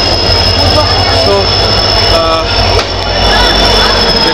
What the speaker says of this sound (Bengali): একটু পরে ট্রেন ছাড়বে